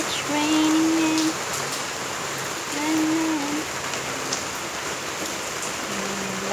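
Steady rain patters outside a house on a rainy morning in the UAE, a constant hiss of drops on surfaces, with a faint voice and brief tonal sounds now and then.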